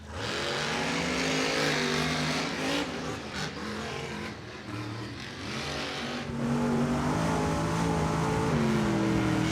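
Monster trucks roaring through a Monster Jam race at Raymond James Stadium in Tampa, Florida, with loud sustained engine revving and rising and falling pitch as they accelerate across the track.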